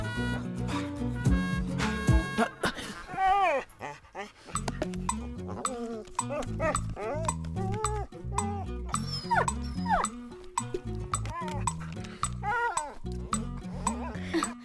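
A dog whimpers and barks in a scene from a dubbed South Indian film, partly masked by loud, dense background music and effects throughout.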